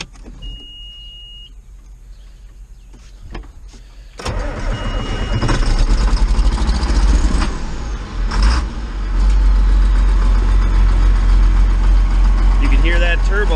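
A 45 tractor diesel engine cranks over and fires up from a cold start, then settles into a loud, steady idle with turbo whine close by.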